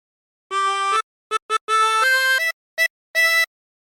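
A 16-hole tremolo harmonica playing the first phrase of The Wellerman, a string of reedy wavering notes of varied length with short pauses between them, close and clear with no talk.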